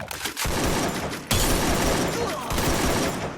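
Rapid bursts of gunfire in the Free Fire battle-royale game, dense crackling volleys that start suddenly and then keep going in loud overlapping rounds.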